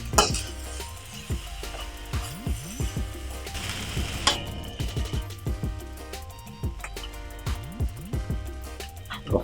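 Mixed fried rice sizzles in a pan while a spatula stirs and scrapes it, making repeated metallic clinks and scrapes in an uneven rhythm over a constant frying hiss.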